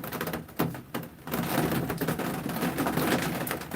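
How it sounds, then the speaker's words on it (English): Steady rain falling outdoors in Michigan during garden pruning on a rainy day, a continuous dense patter of drops with a couple of brief louder cracks near the start, moderately close and without speech. "it's supposed to rain literally all day here in Michigan"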